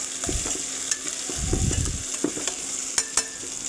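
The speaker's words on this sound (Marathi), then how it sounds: "कोथिंबीर टाकून देऊ, जे घेतली होती ते तेलामध्ये." Coriander frying in oil with softened tomato and onion, a steady sizzle broken by scraping stirs and a few sharp utensil taps against the pan, close and fairly loud with no voices.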